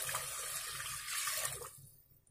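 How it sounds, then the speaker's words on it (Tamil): Water streams steadily into a cooking pot, a close splashing pour that stops and trails off near the end. "இனி வந்து இதுக்கு நம்ம தேவையான தண்ணி ஊற்றிக்கலாம்."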